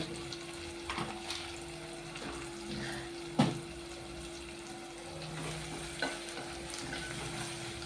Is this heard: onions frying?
yes